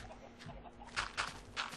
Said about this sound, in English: the chicken butt noise is funny as hell